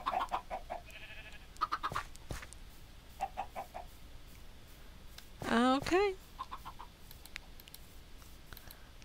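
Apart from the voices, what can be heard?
chickens clucking on a farm in the video game New World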